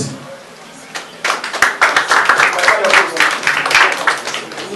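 An audience claps through a steady stretch of dense applause that starts after a quiet second and holds loud and close to the end, with voices mixed in.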